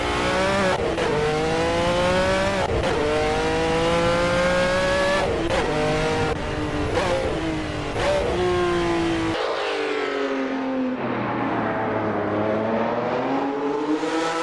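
A race car at Brands Hatch in Assetto Corsa drones loudly and continuously, its engine revving through repeated shifts and a long deceleration. A thin, faint brake screech sits beneath the engine as it slows.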